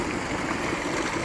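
Cold water gushing from a running tubewell at a village home in Pakistan, a loud, steady rushing and splashing close by that fills the whole brief moment, with no talking.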